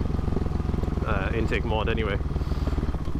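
A Husqvarna 701 motorcycle engine with a stage 2 intake plate runs steadily, a low continuous throb that stays under someone talking throughout.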